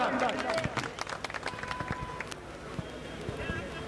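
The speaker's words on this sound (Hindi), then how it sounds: "जोरदार तालियों से उनका अभिनंदन और स्वागत सम्मान" Loud applause from a crowd at a protest rally in Neem Ka Thana, greeting former MLA Purnmal Saini with dense, steady clapping that fills the clip.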